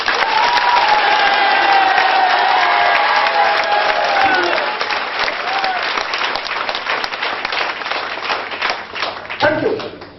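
A seminar audience claps loudly and steadily for several seconds, the dense applause slowly thinning toward the end while someone talks over it.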